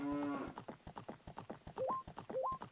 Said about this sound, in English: Rockchalk's Epona noise is a cow mooing